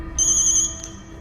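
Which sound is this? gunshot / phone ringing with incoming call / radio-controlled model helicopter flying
phone ringing with incoming call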